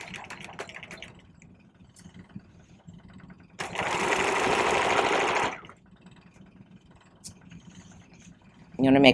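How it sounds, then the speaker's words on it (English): Sewing machine stitching the shoulder seam of a vest, one steady whirring run of about two seconds amid quieter handling sounds, with a brief voice at the end. "now we just sew standard seam right there across the shoulder seam"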